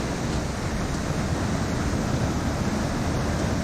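Middle Falls, a waterfall along the canyon trail at Silver Falls State Park in Oregon, gives a dense, steady roar of falling water, loud and close, with no voices over it.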